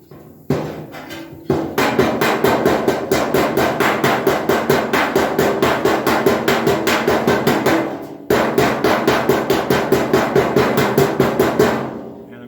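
Cross peen hammer shrinking and contouring a sheet-metal body tub, rapid steady ringing metallic blows in long regular runs, close and loud, with a brief pause before the strikes resume.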